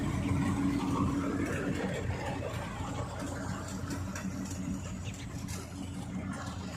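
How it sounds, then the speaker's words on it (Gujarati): A Swraj 735 tractor engine runs a farm machine with a steady, low, rumbling drone. The mechanical hum is fairly faint and continuous, with no speech. "તમે જોઈ શકો છો સ્વરાજ 735 ટ્રેક્ટરની અંદર આ મશીન ચાલે છે, ખૂબ જ સારું ચાલે છે."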